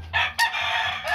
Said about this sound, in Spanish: Esas gallinas son Cowan de Junus Bell.